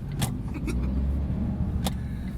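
A Smart car drives along with a steady low road and engine rumble from inside the cabin, punctuated by a few brief clicks and rattles.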